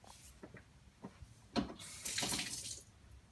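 Water runs from a tap while clay is being smoothed for a squishy craft, a short steady splashing stream after a few light knocks, close and fairly quiet, with no talking.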